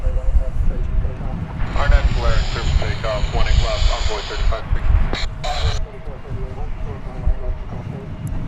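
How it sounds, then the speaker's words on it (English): American Airlines Airbus A321 arriving at DFW Airport from Los Angeles, a steady engine rumble with a rising whine partway through, while someone talks over it. "Incoming from Los Angeles is American flight 1658. It's an Airbus A321."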